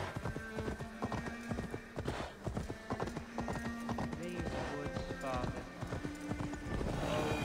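In Assassin's Creed Valhalla, a horse's hooves clop in a steady rhythm with a brief neigh, while a voice talks over the action.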